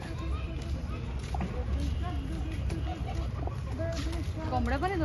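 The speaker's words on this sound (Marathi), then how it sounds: "कोंबड्या पण आहेत वाटतं." Chickens at Aayush Resort in Panvel cluck and call in short, repeated bursts at moderate distance, with a steady low background rumble and people talking nearby.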